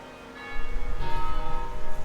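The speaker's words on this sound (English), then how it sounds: "The bells of Peebles." Church bells ring in the Scottish town of Peebles, a rich layered peal of sustained tones swelling in loudness partway through and ringing on steadily, with no voices.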